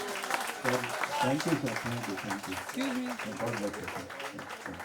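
Applause for a comedian at a singer's birthday party, a crowd clapping continuously while someone speaks over it to offer thanks.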